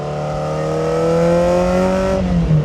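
A close, loud high-mileage Ferrari engine revving steadily upward in pitch, a rising mechanical whine that briefly drops at the end.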